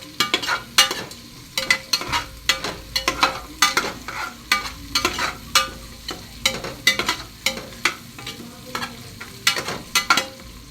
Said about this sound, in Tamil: நல்லா கொஞ்சம் டீப் ஃப்ரை பண்ணிக்கலாம்.